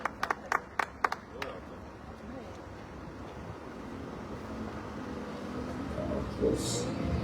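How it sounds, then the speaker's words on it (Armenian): A handful of sharp, separate handclaps ring out near the start at an outdoor gathering welcoming a child, then fade into a low windy background murmur. "եկեք մի հատ ծափ հարենք ու ողջունենք իրան"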